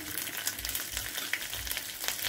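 Spices sizzle and crackle steadily in hot oil for palak paneer, a dense, close frying hiss with scattered pops throughout.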